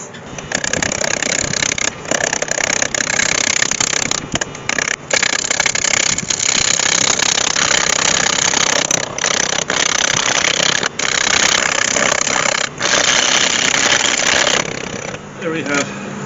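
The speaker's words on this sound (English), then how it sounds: "I put my screw chuck in one end and set that piece of yoke in the lathe." Wood lathe spinning a piece of yew fitted on a screw chuck, a loud continuous mechanical whir and rattle that holds steady for about fifteen seconds with a few brief dips, then winds down at the end.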